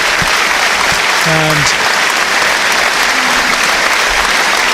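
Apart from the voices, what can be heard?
home fans applauding at Brunton Park football ground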